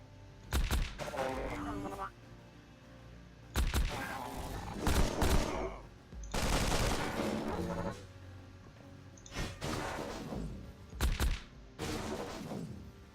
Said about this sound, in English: This is what the assault rifle is for.